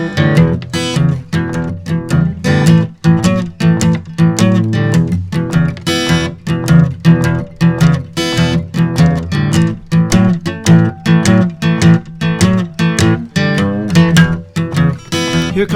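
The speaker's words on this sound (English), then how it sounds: "how to play a 12-bar blues that sounds like this" Guitar playing through a 12-bar blues progression, steady strummed and picked chords with a rhythmic shuffle feel, loud and close with no talking over it.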